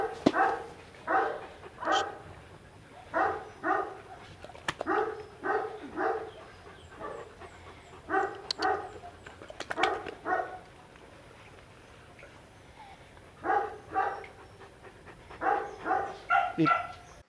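Dogs bark and yip in short, rhythmic bursts of several quick calls each, loud and close, with brief pauses between bursts during feeding time.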